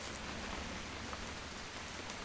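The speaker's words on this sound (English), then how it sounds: "It's gonna rain the whole what? weekend" Steady rainfall in the video game What Remains of Edith Finch patters continuously, a soft even hiss of drops with no voices.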